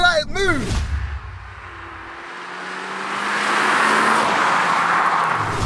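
Seat Leon Cupra 290 accelerating: a brief burst of revving engine tones at the start, then a rising roar of engine and road noise building steadily, heard from inside the car.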